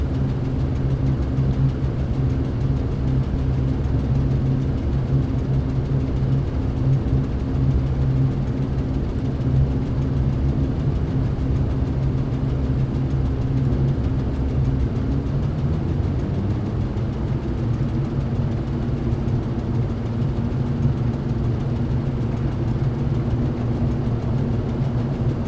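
Hughes Spruce Goose flying boat engines run up under throttle in Microsoft Flight Simulator, a loud, steady low drone that holds with no talk and dips slightly in pitch partway through.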